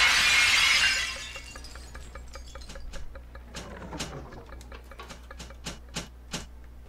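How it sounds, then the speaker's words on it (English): In Bioshock 2, a stained glass window shatters with a loud initial crash, then glass shards tinkle and clatter in scattered, sharp pieces for several seconds as the debris settles. "Now that's a fascinating sound. And this is called a stained glass window."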